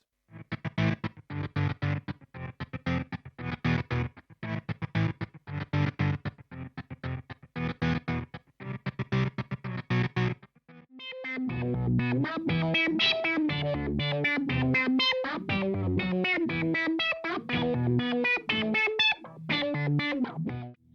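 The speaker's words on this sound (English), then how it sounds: "it has this prism shift effect on it afterwards that you're just not going to find on the SY-200" Synth pedal tones from the Glitter Bomb preset play a choppy, rhythmic pattern, then shift into a denser, shimmering wash of pitched notes with bright, stepping harmonics from a prism shift effect.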